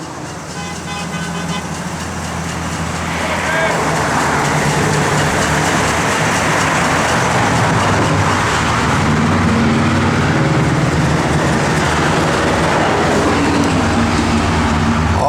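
A 1966 Pontiac GTO engine cranks and fires, then settles into a loud, steady, deep-throated idle that keeps rumbling close by for the rest of the stretch.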